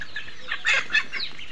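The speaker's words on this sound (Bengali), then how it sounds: "সিলিং হাঁস আছে, মুরগি আছে, মোরগ আছে, পাতি হাঁস আছে" Chickens and a rooster in a family poultry yard give a few short clucks, with two louder bursts in quick succession over a steady background.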